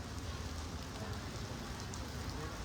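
Steady rain pours down over a street market in Santacruz, a dense, even hiss of drops on surfaces that runs unbroken and fairly close throughout.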